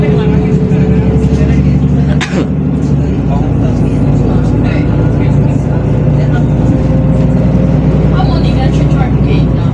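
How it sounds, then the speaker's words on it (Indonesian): A truck rolls along a Singapore street amid steady traffic, its engine rumble loud and close over continuous road noise, with a brief sharp knock partway through. "Ada truk juga di sini."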